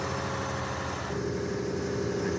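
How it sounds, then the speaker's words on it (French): A camping-car engine drones steadily and loudly from inside the cab, a continuous low hum with a slight shift in tone partway through, no voices. "le bruit infernal du moteur"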